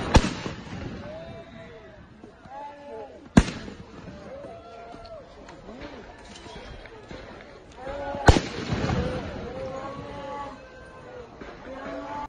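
Gunshots in riot footage as a man being attacked by a mob opens fire: three sharp, loud reports spaced several seconds apart, sounding over crowd shouting and yelling.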